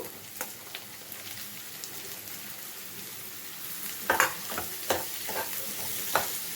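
Bottle gourd, onion and curry leaves fry in a pan, a soft continuous sizzle with scattered spatter pops and a few louder stirring scrapes and clatters in the second half; no voices.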